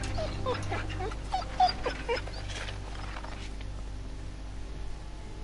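A dog whimpers and whines in The Walking Dead Season 2 video game, with a run of thin, high-pitched whines over the first few seconds before it fades to a quiet, steady background hum.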